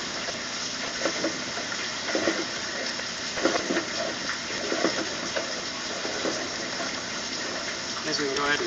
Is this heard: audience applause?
no